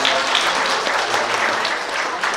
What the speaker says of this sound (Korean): 박수 한번 다시 한번 쳐주시죠